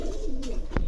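A female Maxi racer pigeon gives a brief low coo, soft and close, with a short louder burst near the end.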